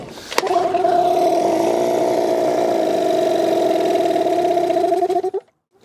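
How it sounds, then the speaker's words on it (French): A boat motor with fuel trouble catches with a sharp start, then runs loud and steady at a droning idle for several seconds before cutting out abruptly into silence, on a trip to a desert island. "Il faut que le moteur il soit en route avant de partir, parce que là, 3 heures pour démarrer."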